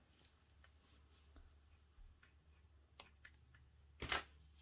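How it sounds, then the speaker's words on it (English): Left-handed crafter snipping pink and blue yarn with scissors after crocheting a reversible octopus toy, a quick sharp snip near the end standing out from faint earlier clicks in a quiet room. "and then cut the yarn"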